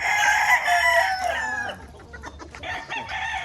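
A rooster at a game farm crows loudly nearby in one long drawn-out call, followed by softer clucking and scattered fowl noises.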